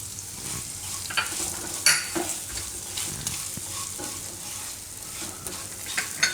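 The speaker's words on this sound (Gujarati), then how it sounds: "થોડીક વાર એને મસાલામાં ફેરવી લેવાના ધીમા ગેસે" Chillies being stirred in methi masala with sugar over a low flame, a soft close sizzle with repeated scraping strokes of a spoon and a few louder knocks against the pan.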